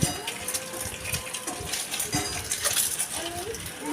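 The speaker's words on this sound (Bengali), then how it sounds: "ডিমটাকে খুব ভালো করে নাড়াচাড়া করছি" A utensil scrapes and clinks against a pan in quick, uneven strokes, stirring fried boiled eggs and potatoes, with a soft sizzle beneath, close and moderately loud.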